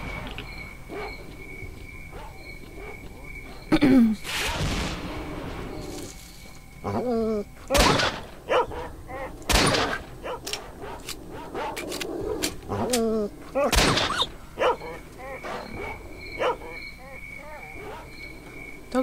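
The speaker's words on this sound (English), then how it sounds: "More dogs." Mutant dogs in the video game S.T.A.L.K.E.R.: Shadow of Chernobyl give scattered snarling barks and yelps in several bursts over a steady background of chirping insect ambience.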